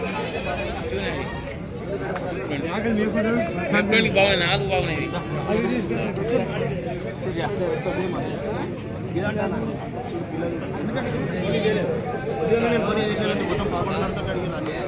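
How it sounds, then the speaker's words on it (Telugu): Many goats, mostly males, bleat at the Vikarabad goat market over a constant crowded din of voices and chatter, a busy outdoor scene with animal calls scattered throughout. "మేకలు చూడండి ఎన్ని కానీ మేకలు ఉన్నాయో"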